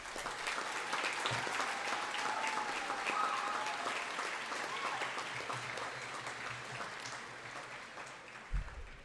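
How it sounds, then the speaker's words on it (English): An audience claps for a state runner-up high school baseball team during an awards day ceremony, with steady sustained applause filling a large hall, moderately distant and even for several seconds. "And now you can give them a great round of applause."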